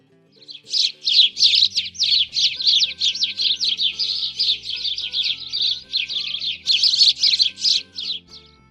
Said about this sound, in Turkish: şimdi etrafta serçeler vardı